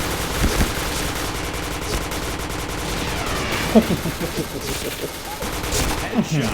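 Rapid automatic gunfire in a video game shooter, bursts of rattling shots running throughout with an excited player talking over them.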